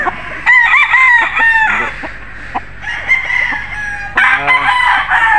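A golden boy street breed rooster crows loudly and close by, giving several drawn-out calls in a row with short clucks and brief pauses between them.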